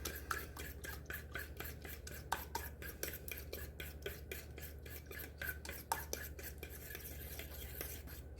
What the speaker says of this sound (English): You really want to get that egg beaten into the mix.